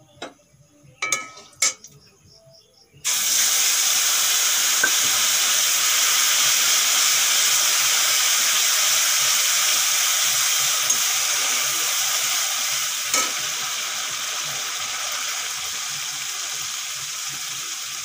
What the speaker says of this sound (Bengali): মশলাগুলো ভালো করে ভেজে নিয়েছি